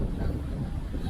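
Strong wind near the summit of Bukit Cumbri, a hilltop near Purwantoro in Wonogiri, buffets the microphone with a loud, steady, low roar and gusts the whole time.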